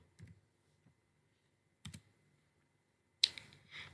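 Computer keyboard keys clicked in three short bursts while commands are entered for DHCP server configuration, with near, crisp clatter separated by quiet pauses.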